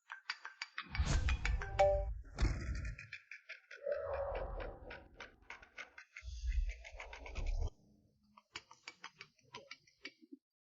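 A phone ringtone plays as a melodic tune in several bursts, followed by a run of quick, evenly spaced ticking beeps near the end.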